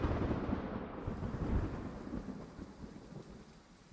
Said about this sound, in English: The seemingly eternal dense sound of rain washed over my senses